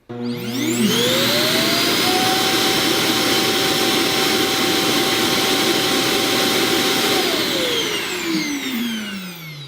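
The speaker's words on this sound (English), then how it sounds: "when it goes back to the dock, it automatically empties, and this is how that sounds" A robot vacuum's dock auto-empties: a loud, steady mechanical whir spins up with a rising tone, holds for several seconds like a strong suction motor, then winds down.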